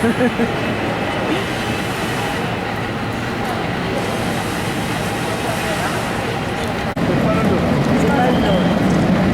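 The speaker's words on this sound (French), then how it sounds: "Ah, on va prendre le tramway." A San Francisco tram rolls along with a steady, loud rumble and rattle that fills the whole stretch, nearby voices chattering underneath and a brief dip in the noise near the end.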